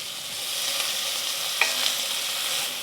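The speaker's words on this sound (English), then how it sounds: "When the pot is hot again, we're adding our shallots in." Shallots sizzle steadily in hot chicken fat in a pot over medium-low heat, a continuous broadband crackle with a brief sharp clink partway through and no talking.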